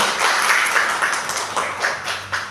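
Teachers at a morning session at SMA Negeri 27 in Kabupaten Tangerang applaud together, a dense, continuous wash of clapping filling the room.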